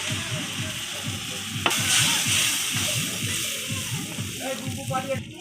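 A spoon stirs onion, garlic and spice paste with turmeric frying in a pan, giving a steady sizzle with regular rhythmic scraping strokes, close up and without talk.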